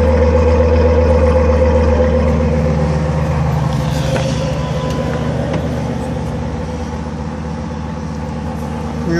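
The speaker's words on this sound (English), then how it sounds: "It's exhaust tone." A 2002 Ford Excursion Limited idles with a steady, deep, low-pitched exhaust rumble, close and constant, slightly easing in level over several seconds, with no talking.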